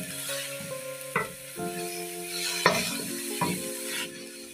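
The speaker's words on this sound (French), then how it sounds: "Laissez blanchir vos oignons quelques minutes." Onions sizzle in oil in a frying pan, a close steady crackling hiss broken by several sharp scrapes and knocks as they are stirred, with a tonal hum running underneath.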